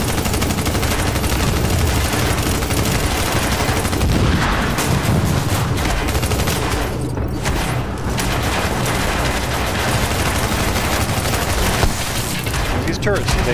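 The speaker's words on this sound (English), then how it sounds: "These turrets, they do a lot of damage." Turret gunfire in a video game: dense, continuous bursts of automatic shots and booms play loudly throughout, with game noise mixed in and a voice talking over parts of it.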